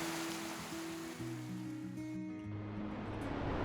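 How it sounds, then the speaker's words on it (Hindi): The Cheeyappara waterfall in Kerala flows heavily during the monsoon, a steady, soft rushing of water that stays constant under music. "कोची से मुन्नार की ड्राइव के दौरान पहले मिलता है चियापरा वाटरफॉल। इस सीज़न में इसका फ्लो काफ़ी अच्छा होता है"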